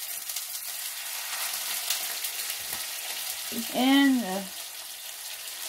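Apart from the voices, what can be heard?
chicken fillet frying in hot olive or coconut oil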